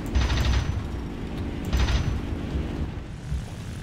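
La-5F fighter's piston engine drones steadily in War Thunder, with two bursts of cannon and machine-gun fire around the half-second and two-second marks, loud and close with no talk.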